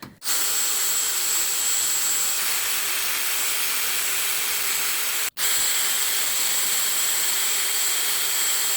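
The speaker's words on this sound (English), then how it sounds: "Grinding stone." Grinding stone on a Subaru Forester front wheel hub cleaning off rust during a wheel bearing replacement, a loud, steady, close whine lasting several seconds, with a brief cut near the start and another partway through.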